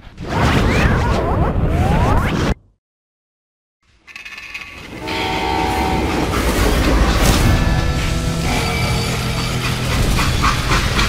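A freight train in the video game Call of Juarez: Gunslinger rumbles along the rails with rattling wagons, then cuts out briefly before returning with clattering and a tonal horn-like sound, loud and close.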